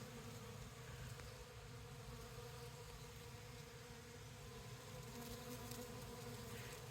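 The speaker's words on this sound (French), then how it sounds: "Là, on entend vraiment un sacré bourdonnement." A dense, steady hum of many honeybees buzzing close by in flowering boxwood, continuous and even, with no voices.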